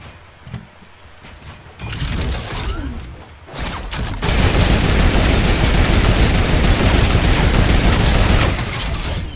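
Sustained turret gunfire in a video game, a dense rapid stream of shots that starts in short bursts and then holds as a loud continuous volley for several seconds.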